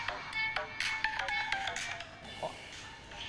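A phone ringtone chirps in a repeating melodic pattern, moderately loud and close, as people talk over it in Vietnamese.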